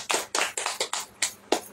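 A church congregation claps hands in a steady rhythm, six or seven sharp, distinct claps in under two seconds, fairly close with little else around them.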